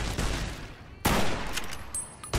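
Gunfire in the video game Fallout: New Vegas comes as a couple of sharp, loud bursts, one near the start and a stronger blast about midway, followed by fainter rattling, with no talk.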